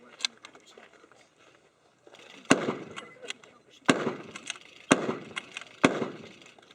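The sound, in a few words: M1903 Springfield rifle firing blanks, bolt-action shots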